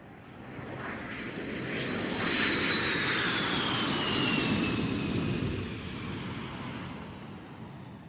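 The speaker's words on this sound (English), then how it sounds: "So we've landed, and we're taxiing to the gate." A jet airliner taxiing after landing, a steady engine roar that swells and then eases off, with a high whine sliding downward, heard alone without talk.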